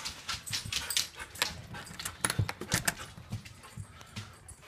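Husky puppies whimpering and yelping in short, faint, irregular bursts up close, with scattered soft rustling and clinking around them.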